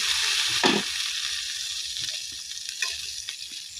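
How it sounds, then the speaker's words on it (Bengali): Slices of white eggplant fry in oil with a steady close sizzle. Occasional scraping stir sounds and light clatter punctuate it. "আমাদের বেগুন দুই পিটি লাল লাল করে ভাজা হয়ে গেছে"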